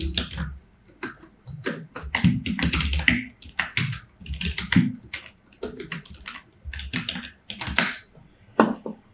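Rapid clicking of computer keyboard keys as an email address is typed, dense uneven bursts of keystrokes close up and fairly loud, with no talking.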